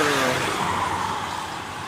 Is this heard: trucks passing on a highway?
yes